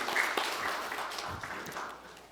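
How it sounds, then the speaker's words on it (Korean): A church congregation applauds together during a Sunday worship service, a steady wash of clapping that fills the sanctuary for a couple of seconds. "크게 영광의 박수를 돌리겠습니다."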